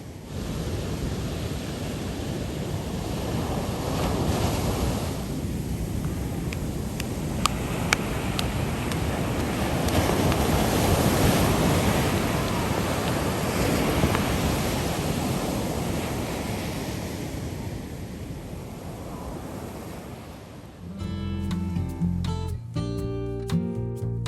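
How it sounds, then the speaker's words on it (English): Surf rolling onto a wide, treeless beach on Kauai, Hawaii, a steady close roar of breaking waves with wind noise, alone with no voices, ending in a brief burst of other sound. "At this wide, treeless beach, surf is up and surfers are out"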